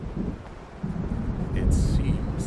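Distant storm thunder in the video game Alan Wake Remastered, heard as a low, continuous rumble with wind-like noise that swells slightly toward the end.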